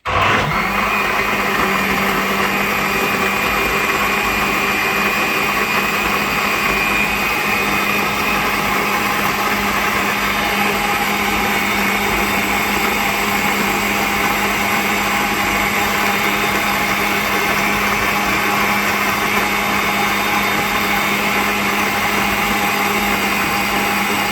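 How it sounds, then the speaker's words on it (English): A powerful blender mixes a punch drink, its motor whirring at a loud, constant high pitch without pause for the whole stretch, with no talking over it. "And then I'm going to start it blending."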